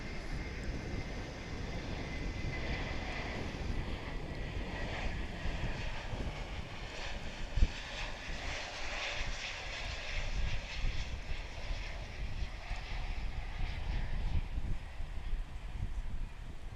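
An Airbus A321 operated by Viva Aerobus comes in to land at DFW International Airport, a broad steady jet roar that swells and holds, distant to moderate in level, with no talk over it.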